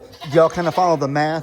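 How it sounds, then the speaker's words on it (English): Angry goats bleat in a stall, several drawn-out, wavering cries close by, heard alongside someone speaking. "Yeah, you got angry goats."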